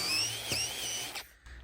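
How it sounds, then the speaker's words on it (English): A power drill with an 8mm bit whines at high pitch, runs briefly, then winds down and cuts out, with a short burst afterward. "drilling these through with an 8mm"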